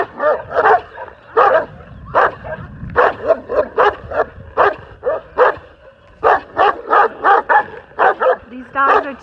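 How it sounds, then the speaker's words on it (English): Several angry dogs bark in repeated loud, close bursts, a rapid run of barks with short gaps, heard along a rural walking route on the Camino de Santiago in Spain. "These dogs are too angry."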